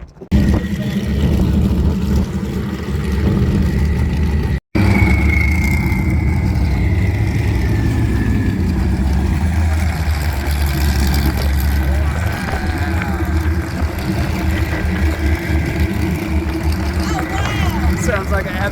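Several vehicles idle and rumble at the Glamis sand dunes in California, a steady low engine drone with occasional revs, close and loud, while people talk over it.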